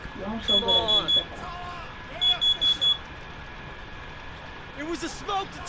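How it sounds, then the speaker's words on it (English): Smoke detector alarm in a basketball career-mode video game, sounding in two short bursts of rapid high beeps, four pulses each, with game voices talking over and between them. "It was a smoke detector. If it didn't go off, you'd all be dead right now."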